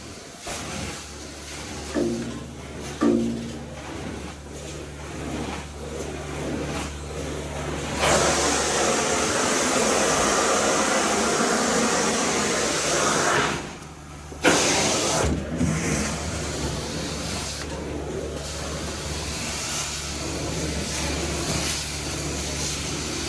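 A carpet cleaning machine runs with a steady hum and hiss, growing louder as a broad rushing spray comes on partway through and continues with brief dips.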